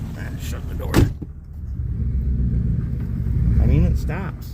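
A crusty old Toyota with freshly repaired brakes, its door slammed shut in one sharp close thump over a low running-engine rumble that continues steadily, with a voice speaking briefly.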